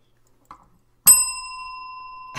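A single bright bell strike rung as a joke, a crisp metallic ding that rings on with a long sustained shimmering tone, loud and alone after a brief small knock.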